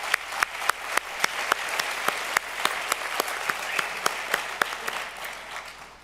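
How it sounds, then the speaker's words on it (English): Applause for those who teach teachers at a spring university convocation: a large audience claps steadily and loudly throughout, with crisp individual claps popping out of the continuous wash. "maybe we should give them a clap"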